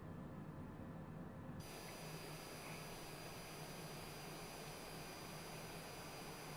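Jet airliner engines in Microsoft Flight Simulator during a high-speed dive, a steady broad roar that suddenly grows brighter and louder after a moment, then holds constant with no talking.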